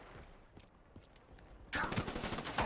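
Rapid bursts of gunfire crackle loudly after a quieter stretch, with fast repeated shots like an automatic weapon, in Call of Duty: Black Ops 3 multiplayer.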